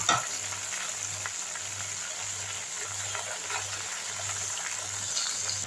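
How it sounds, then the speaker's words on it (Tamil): Manathakkali greens sauté in ghee in a pan with a steady close sizzle, stirred at times, while a low mechanical hum pulses regularly underneath. "இந்த நெய்லேயே வதக்கிடலாம்"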